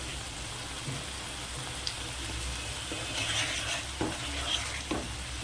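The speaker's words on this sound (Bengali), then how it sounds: "এই মশলাটা অনেকক্ষণ ধরে কষাবো" Spice paste for a lote fish curry sizzles and fries in a pan while being stirred, with a steady close sizzle and a few scraping stirs.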